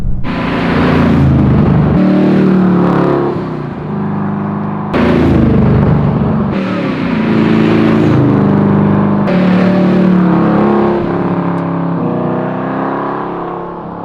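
A twin-turbo 1969 Chevrolet Camaro roars as it is driven, its engine rising and falling through repeated hard revs and gear changes, loud and close with no talk.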